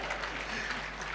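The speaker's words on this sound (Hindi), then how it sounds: "ये आपकी जोरदार तालियां थी।" An audience at a Hindi poetry gathering for the new year claps in a brief, steady burst of applause, somewhat muffled and moderately distant, with a voice faintly present.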